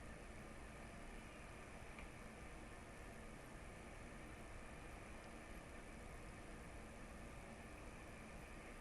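A laboratory centrifuge spinning at 13,000 RPM for five minutes during a biotin labeling procedure makes a faint, steady whirring hum that holds constant throughout.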